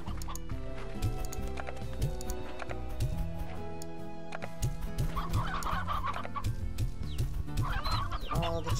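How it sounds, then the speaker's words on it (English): Chickens in the video game Slime Rancher cluck and gobble continuously in a dense flock, with repeated short clucks over a steady game background and no talking. "All the chickens."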